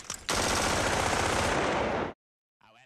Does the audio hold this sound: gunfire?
yes